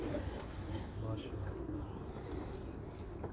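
Pigeons on a rooftop, soft low cooing repeated through a constant hum of background noise, faint and fairly distant.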